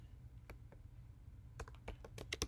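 Rapid keystrokes on a computer keyboard, sparse at first and then a quicker burst of clicks near the end, close and clear over a low steady hum.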